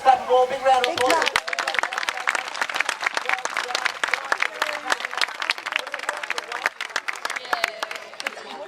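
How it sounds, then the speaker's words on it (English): An audience in Australia, gathered for an animal show, breaks into loud, sustained applause with dense clapping and some crowd noise, continuing steadily for several seconds after a brief voice at the start. "He also expects the loudest clap of all. Big round of applause."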